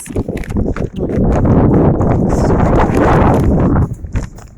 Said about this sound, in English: in almost fairy tale fashion, complete with magnificent horse-drawn coaches